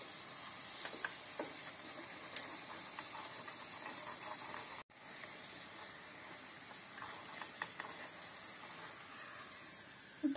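Tatar urama pastry fries in hot oil, a faint steady sizzle and hiss with occasional small pops and crackles, quiet and close, with no talk.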